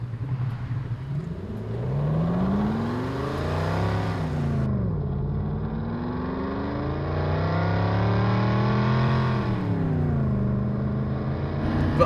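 A SoundRacer device plays a fake Lamborghini engine note inside a TVR sports car, a loud synthetic wail rising and falling in pitch through repeated revs as the car accelerates and shifts.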